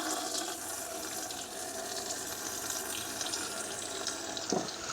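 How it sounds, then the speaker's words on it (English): Mains water gushes from an older pipe into a zero ppm filter used for car washing, a loud, steady rushing flow that runs unbroken and close throughout. "there's mains water coming out."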